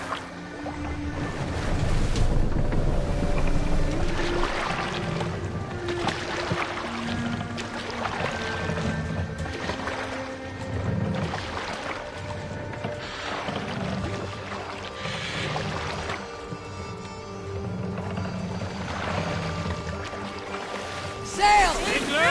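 A Viking longship sailing on open water in Assassin's Creed Valhalla, with a continuous wash of waves and splashing against the hull, steady and fairly loud, alongside game speech and ambient sounds.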